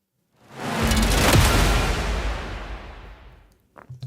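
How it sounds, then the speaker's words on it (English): Two layered whoosh hit sounds from the Viral Audio Ascent trailer-music plugin, swelling into one loud, broad rushing sweep with a deep booming low end that fades out over about three seconds, followed by a few brief soft knocks. "I used 2 whoosh hit sounds. It sounds like almost like a roller coaster blended with another sound."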